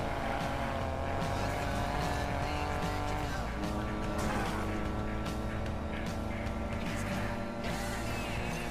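A race car in a PS4 racing game, the GNT Iso, runs with a loud continuous engine whine that shifts pitch through gear changes, with tire squeals and game sound over it.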